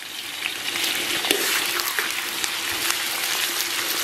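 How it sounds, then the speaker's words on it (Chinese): Gentle, continuous sizzle of Pixian chili bean paste frying in oil with scallion, ginger and garlic over low heat, a close crackling hiss with faint stirring clicks and no talk. "小火给它炒出红油。"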